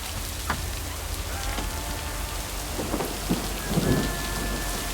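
Steady rain hisses throughout a thunderstorm in the video game Lake, with low rumbles of thunder swelling in the background and rolling louder near the end; no voices.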